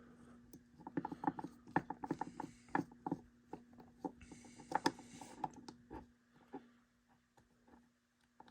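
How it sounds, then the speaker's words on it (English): Small screws are worked out of a Kleinbahn model train locomotive during a restoration, giving quick ratcheting clicks and scraping ticks in bursts over a steady low hum, close and quiet, then trailing off. "Let's try taking out these screws."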